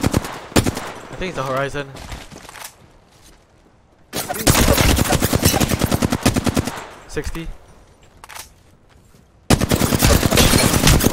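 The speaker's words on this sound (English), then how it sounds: "Getting shot at." Rapid automatic gunfire from an Apex Legends-style squad shooter, loud bursts in several sustained volleys with short gaps, while players talk over the shooting.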